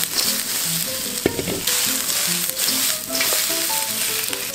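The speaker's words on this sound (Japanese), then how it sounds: "じゃあこれを炒めていきましょう" Vegetables stir-frying in sesame oil in a wok, a steady close sizzle and crackle with brief scraping and tossing sounds as they are stirred, no voices.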